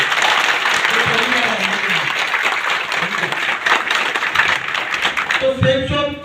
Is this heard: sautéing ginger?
no